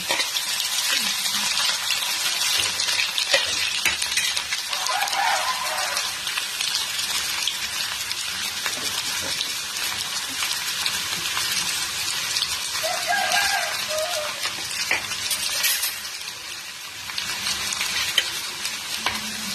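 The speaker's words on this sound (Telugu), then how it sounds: "కొంచెం తాలింపు గింజలు వేగంగానే మనం వెల్లుల్లి రెబ్బలు కూడా వేసేసుకుందాం" Oil sizzles and crackles steadily as garlic cloves and tempering seeds fry in a pan, with occasional stirring scrapes, continuous and close throughout.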